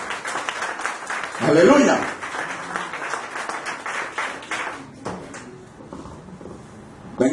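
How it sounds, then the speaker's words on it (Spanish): A church congregation claps along through a worship service, the clapping steady and fairly loud, with a brief swell near the start, mixed under a voice calling out praise. "Dale un aplauso a nuestro Rey"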